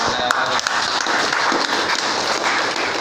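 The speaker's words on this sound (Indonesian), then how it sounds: "Tepuk tangan." Hand clapping and applause from an audience at a team welcome and send-off event, loud, dense and steady throughout, close by, with some talk mixed in.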